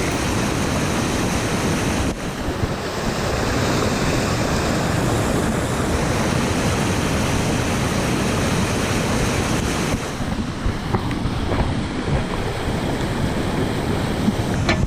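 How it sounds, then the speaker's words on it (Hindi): Water pours out through an opened gate at Khanpur, making a loud, steady roar of rushing flow with no breaks, and wind buffets the microphone throughout. "उस पानी को निकालने के लिए ये इस गेट को खोल रहे हैं यहाँ पे"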